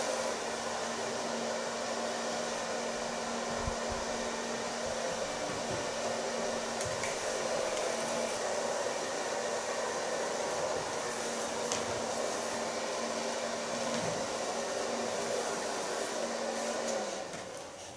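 Hair dryer blowing steadily on long hair for a continuous stretch, a loud close whooshing roar with a constant motor whine that winds down at the very end.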